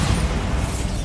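Bombarda spell blast in the video game Hogwarts Legacy, a single brief, loud, dense burst of rumbling noise filling the whole second with no talk.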